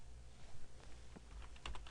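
Quick, light computer keyboard keystrokes patter in a short burst, closing with a few firmer key presses close by, including pressing Enter.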